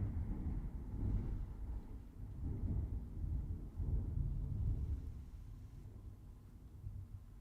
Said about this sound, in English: Dang, that was some loud thunder.